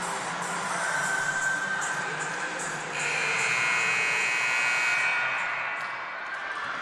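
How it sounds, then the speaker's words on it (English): A timeout buzzer sounds at a college volleyball game between Pierce and Mt. Hood, a long, loud, sustained electronic tone over the murmur of a gym crowd. "There's the buzzer coming out of the timeout."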